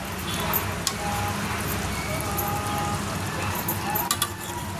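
A spoon stirs ridge gourd curry in a pan, with a soft scraping hiss and a few light metallic clinks against the pan, while someone talks nearby.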